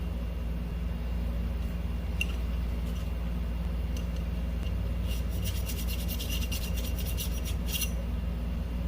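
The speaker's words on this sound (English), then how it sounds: "So we're using pretty gentle files, not using anything that's real coarse." A gentle hand file rasps Cerakote off the frame of an IMI Jericho 941 pistol, faint scraping strokes in a loose rhythm that cluster in the second half over a low steady background hum.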